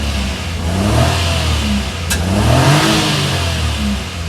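A 2016 Daihatsu Hijet's engine, serviced for misfiring and high fuel consumption, revs on a test drive, its steady drone rising and falling in pitch as the vehicle accelerates, close and continuous, with a brief sharp click midway and no talk.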